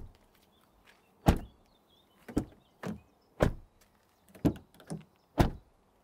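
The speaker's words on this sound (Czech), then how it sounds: "zvuk zavírání dveří." Several solid car door thuds from a Kia EV6 and a Hyundai Ioniq 5, about seven, spaced irregularly and heard close, with quiet pauses between each slam.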